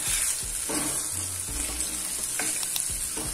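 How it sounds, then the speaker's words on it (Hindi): A semolina, green pea and gram flour mixture sizzles in a pan over medium flame, with a constant frying hiss broken by scraping stirs and soft clunks of the spoon. "इसे हम मीडियम फ्लेम पर अच्छी तरह से पका लेंगे अपने मिश्रण को"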